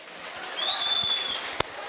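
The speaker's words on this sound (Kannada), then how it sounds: "ಚಪ್ಪಾಳೆ ಹೊಡೀರಿ." A crowd at a cultural event breaks into brief applause, the clapping swelling then steady for about a second, with a thin whistle above it and one sharp clap near the end.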